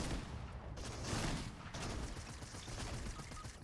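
Gunfire in a video game, several rapid shots and bursts overlapping in a dense, fairly quiet stretch, with a brief lull partway through.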